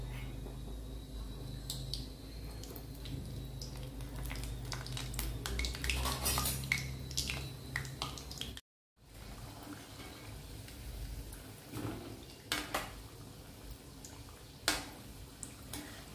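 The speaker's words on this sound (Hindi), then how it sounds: "इसमें हम अपने मिर्ची भजिए डालते हैं और इन्हें डीप फ्राई करते हैं।" Stuffed chili fritters (mirchi bhajiya) deep frying in hot oil, a steady close sizzling hiss with scattered clinks of utensils against a pan and a brief dropout midway.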